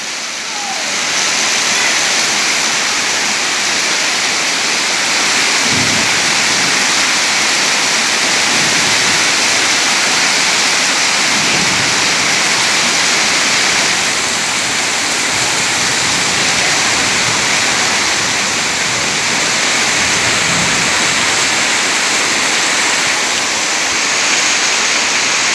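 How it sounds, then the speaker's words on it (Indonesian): Heavy rain pours down steadily at a school, a loud, dense broadband wash of water that holds constant throughout with no talking over it. "Nah, ini udah hujan nih."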